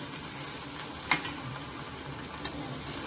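Gram (chickpea) leaf greens being stirred in a hot pan, a soft continuous sizzle with a couple of brief scraping knocks from the spoon, heard close and alone.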